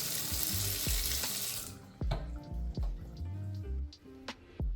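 Hot water gushes from a tap fed by a dishwasher supply line converted to hot water, a steady close rush for under two seconds, then stopping into scattered drips and small clunks in a quiet room.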